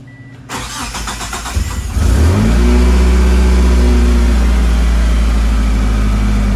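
A GSX Spyder engine cranks and fires after an oil flush and change with a fresh exhaust seal, then revs up and settles into a loud, steady rumbling idle close by.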